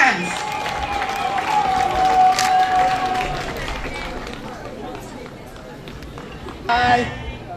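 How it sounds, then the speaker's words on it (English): A crowd at a school golden jubilee celebration claps and cheers, loud at first and then easing off, with chatter and a voice over the noise and a brief renewed burst near the end. "please cheer her up as she can"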